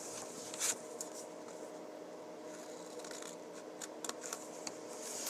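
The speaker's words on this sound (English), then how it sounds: "This time I'm only going to make one cut. And make it at an angle." Scissors make a single angled cut through folded card for a pop-up card, heard as a faint crisp snip followed by soft close rustling and light handling of the card.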